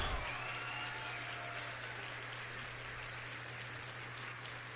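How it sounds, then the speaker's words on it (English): Audience applause for a business owner, a steady, fairly faint wash of clapping that carries on for several seconds with no speech over it. "we got to give that man a round of applause"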